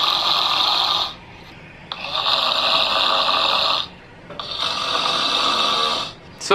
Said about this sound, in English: Quick search on YouTube pulled up a video of the sounds of snoring.